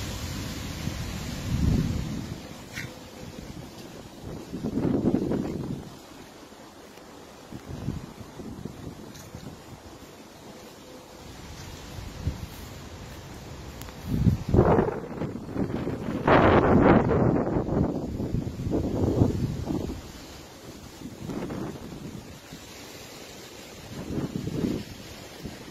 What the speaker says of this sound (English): Quite windy today.